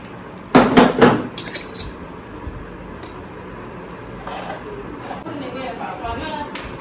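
Knife and utensils clatter on a plate and board in a home kitchen while chicken rolls are cut, with a loud burst of clinks early and lighter scattered taps later, under steady chatter.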